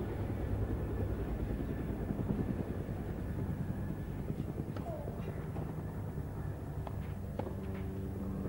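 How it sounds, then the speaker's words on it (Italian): Several helicopters flying over the Foro Italico tennis venue in Rome during a 1989 match, a steady low rotor rumble and drone filling the scene, with faint crowd and court sounds beneath. "Ci sono molti elicotteri intanto che stanno sorvolando qui il foro italico."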